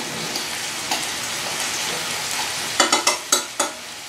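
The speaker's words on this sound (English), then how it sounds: "I am going to go ahead and cook my cauliflower separately" Cauliflower rice sizzles in a hot pan with a steady, close hiss, then a run of five sharp scraping stirs near the end, with no talking.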